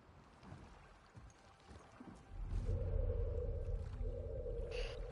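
A boat moving across water in the video game The Last of Us Part II, with a steady low engine rumble and a humming tone that swell in around two seconds and hold loud and continuous to the end.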